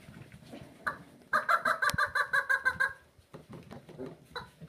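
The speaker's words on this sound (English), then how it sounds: "Let me get the squeaky toy and then they'll all come." A rubber dog squeaky toy squeaks rapidly about a dozen times in a steady rhythm, loud and close, with small scattered noises before and after, near six-week-old schnoodle puppies.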